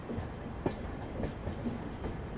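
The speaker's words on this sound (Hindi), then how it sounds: "सामने देख लो वो डीजल लोकोमोटिव जो हम लोगों ने देखा था, फिलहाल तो शंटिंग कर रहा है वहाँ पे।" A diesel locomotive shunts at a railway station, its low rumble and scattered clanks and wheel clicks coming faint and distant from across the yard.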